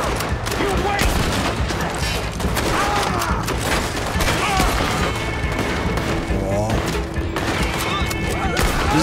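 Dense Red Dead Redemption 2 firefight with Arthur's gunshots mixed into continuous loud volleys of cracks and booms, game voices talking throughout.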